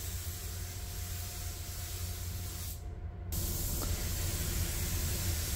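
Continuous hissing spray from a Sata 5000 paint gun with a 1.3 fluid tip applying clear coat to a Mustang drag car, briefly cutting out before resuming steadily and close.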